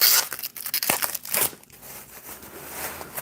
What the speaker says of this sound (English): So when a plastic bag is making sounds,